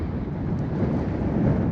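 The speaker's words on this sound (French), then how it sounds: "Il y a un peu de vent." Wind buffets the open summit of Wave Rock, a granite outcrop in Australia, as a continuous low rumbling roar steady throughout the short stretch, with no voices.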